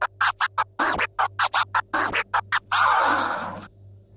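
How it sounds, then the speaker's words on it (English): A two-click flare scratch is worked on a Pioneer DDJ SB3 controller, producing a rapid run of short chopped scratch bursts cut by the crossfader, ending in one longer sustained scratch that fades out. "The 2-click flare sounds like this."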